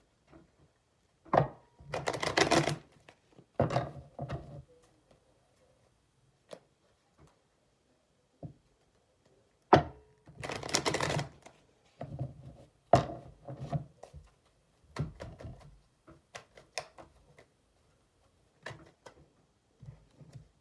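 Tarot cards being shuffled close up in a quiet room, with short papery riffles and taps arriving in scattered bursts separated by silences.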